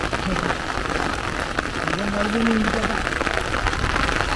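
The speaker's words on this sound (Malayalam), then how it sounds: "നല്ല മഴയാണ്." Heavy rain pours down steadily as a broad, even hiss throughout, with no voices, during a downpour.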